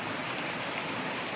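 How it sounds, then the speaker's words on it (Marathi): Heavy unseasonal rain driven by wind pours down in a steady, dense roar, loud and unbroken throughout, with no voices. "अवकाळी पाऊस जबरदस्त सणसणा वाजतो नुसता मोकार पाणी"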